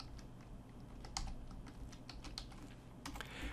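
Computer keys are pressed in quick, scattered clicks at close range, a faint, dry tapping with a short burst near the end.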